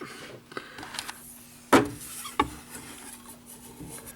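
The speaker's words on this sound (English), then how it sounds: "Well, wipe it down and give it a shot." A vinyl record from a free pile is wiped down by hand: soft, close rubbing and brushing with a few sharp handling knocks, in a quiet room without speech.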